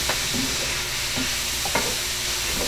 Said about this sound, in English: Now our oil's getting hot.